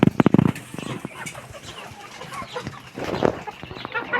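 Local chickens on a Nepali poultry farm cluck and call in a few loud close bursts at the start and again later, with quieter scratching and shuffling between.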